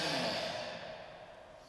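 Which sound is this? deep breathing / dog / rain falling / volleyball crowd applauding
deep breathing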